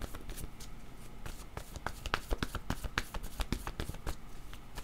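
A deck of cards shuffled for a card reading, a dense, steady run of crisp riffling flicks and soft slaps, close and continuous with no talk.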